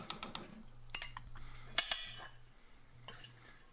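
A pot of corn and cherry tomato salsa is stirred on the stove, with a spoon clinking and scraping against the metal pot in short, irregular bursts over a low steady hum.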